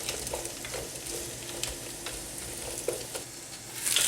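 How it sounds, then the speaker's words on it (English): Peppers and onions soften in a pan for a paneer makhanwala curry, frying with a steady close sizzle, broken now and then by soft spoon stirs and scrapes. "I've got a lovely smell of them peppers cooking with them onions"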